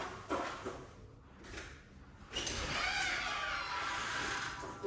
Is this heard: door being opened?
yes